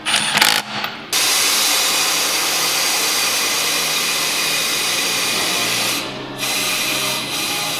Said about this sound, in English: Chrome socket on impact.